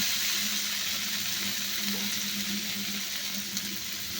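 Water added to spices frying in a pan while cooking cabbage with prawns: a steady, close hiss of sizzling under a low hum, continuous throughout with no talk.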